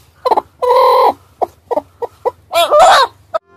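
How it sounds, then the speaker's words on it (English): A hen clucks in a quick series of short, close calls, ending with a louder, drawn-out squawk. "H for hen"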